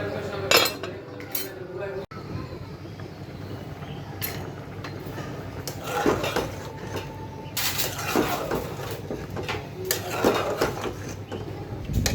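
A metal lid lifts off a pot of mixed vegetables simmering into a light curry, giving several close clanks and clinks of metal against cookware over a low kitchen background; no talk.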